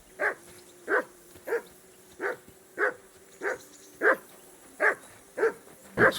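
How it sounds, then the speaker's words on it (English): A dog barking in the video game Kingdom Come: Deliverance 2, about ten evenly spaced single barks over six seconds against a faint background hum, clear and fairly close. "Henry! Call off that damn dog!"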